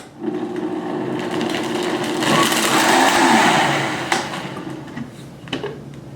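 A blender whirs through a superfood smoothie of frozen fruit and chilled nut milk, a steady motor drone that rises in the middle and then winds down, with no talk.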